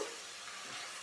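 Ginger-garlic paste frying in hot oil for chicken biryani, a steady bright sizzle holding evenly for about a second with no voices.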